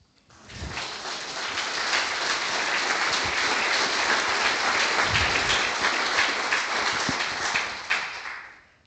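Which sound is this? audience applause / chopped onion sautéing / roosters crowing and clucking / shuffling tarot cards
audience applause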